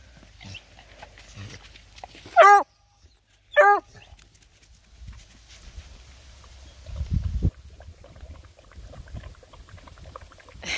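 Black and tan hound puppies yelp in two sharp, close bursts, then fall quiet except for soft shuffling and a low rustle.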